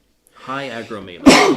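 A man's sharp sneeze bursts out loud and close right after a stretch of his own speech, one abrupt explosive burst in a casual tabletop wargaming discussion.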